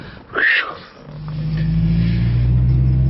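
A Honda Civic Type R (EP3) pulls away and accelerates, its engine rumble building into a steady, loud drone after a brief voice-like sound at the start, close to the listener.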